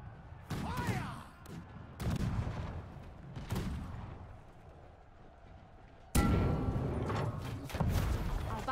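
Gunfire volleys in the medieval battle game Poleaxe, loud bursts of cracking shots arriving in several clusters, with a heavier barrage near the end over a constant battlefield din.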